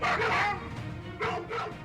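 Several dogs in a video game bark in quick, yappy bursts, fairly close, with a short pause between two rounds of barking.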